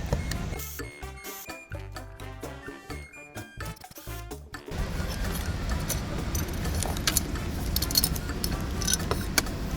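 Handling and unscrewing screws from an old digital door lock, with dense metallic clicks, rattles and scraping up close, then a continuous broadband grinding noise.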